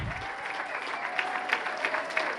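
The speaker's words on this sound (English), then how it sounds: "a round of applause for Bridget Martin" Gala audience applauding an award presenter at an award presentation: brief, dense clapping from a crowd in a hall, steady and fairly loud with a few sharper claps popping out.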